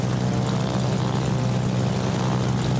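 Propeller aircraft engines in the World of Warships game, carrier planes droning at a steady low, continuous hum that holds constant throughout, with no speech over it.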